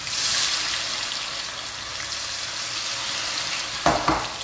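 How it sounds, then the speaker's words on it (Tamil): Cauliflower pieces fry in a batch in hot oil for Gobi Manchurian, a close, steady bubbling sizzle that runs throughout, with a couple of sharp clinks near the end and no talk. "இப்போ நம்ம இந்த வெறி வச்சிருக்கிற காலிஃப்ளவரை போட்டு ஃப்ரை பண்ணிடலாம்"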